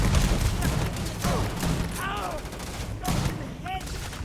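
Gunfire in Starfield at Neon, a burst of close shots with rapid cracks and thumps, followed by a couple of further reports amid whooshing effects.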